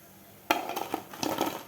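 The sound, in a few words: fried soya chunks being taken out onto a plate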